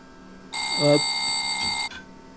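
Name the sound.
train vigilance alarm bell, video game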